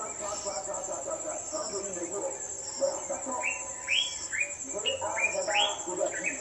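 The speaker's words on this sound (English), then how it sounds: "Now you can hear the birds chirping and singing," Birds chirp and sing in short, bright repeated calls in the morning over a soft outdoor background in Ghana, moderately close, with faint talk underneath at times.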